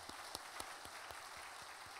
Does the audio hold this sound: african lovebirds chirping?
no